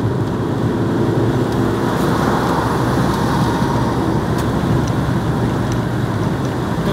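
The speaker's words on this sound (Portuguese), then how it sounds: "Então tem que fazer uma ultrapassagem meia cuidadosa" A loaded car, carrying a door on its roof, overtakes on a highway in the Campos Gerais region, a steady loud roar of engine, tyres and wind noise with no talk.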